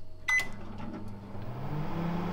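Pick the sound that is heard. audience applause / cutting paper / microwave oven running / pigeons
microwave oven running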